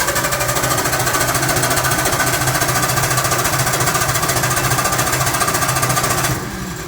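Onan generator cranking during an automatic transfer switch test, a loud, rapid mechanical chatter that runs steadily for several seconds before abruptly dropping off, with no talk.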